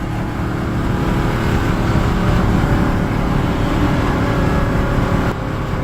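A misfiring Ford Police Interceptor run at full throttle with no transmission fluid, giving a loud continuous engine roar from inside the car that swells slightly midway and drops off near the end.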